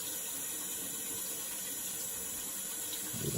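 Water runs steadily from a bathroom sink faucet during a shave, a continuous close hiss and splash with no break and no talking.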